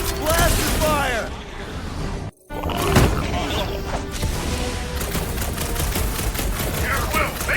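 Rapid blaster fire from a battle in the Guardians of the Galaxy video game, a dense stream of loud sharp shots over heavy action noise, with voices talking throughout and a brief dropout partway.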